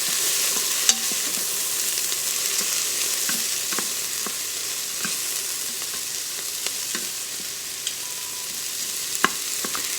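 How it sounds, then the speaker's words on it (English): Onions, peppers and minced garlic fry in an Instant Pot, giving a steady bright sizzle throughout with occasional small pops and light stirring clicks. "I'm going to add 4 garlic cloves, 4 minced garlic cloves, and I'm going to let those cook until they're fragrant"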